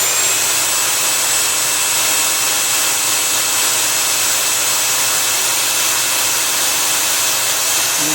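A Minispark electrostatic influence generator spinning up, giving a steady, loud whirring hum with a high tonal whine held evenly throughout, no voices.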